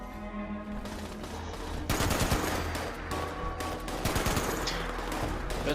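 Rapid automatic gunfire and single shots crack and rattle in the video game Fallout 76 during a fight with ghouls, loud bursts following one another over several seconds.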